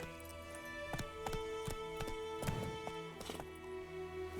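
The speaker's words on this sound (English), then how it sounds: "what is that? Vesimir's horse?" Hooves clip-clop steadily on hard ground with a horse snorting now and then in The Witcher 3: Wild Hunt, set against a constant game background hum and music.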